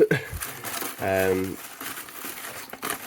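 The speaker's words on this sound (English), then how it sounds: "it's got all this wrap that we all come to know and love or hate with CEX. We'll keep unwrapping it." Plastic wrap crinkles and crackles as it is pulled off a CEX game box for the SNES, a close, sporadic rustling heard alongside a brief voice.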